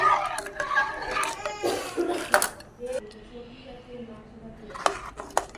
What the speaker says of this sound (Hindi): दूध डालने के बाद अच्छे से हम इसे मिक्स करेंगे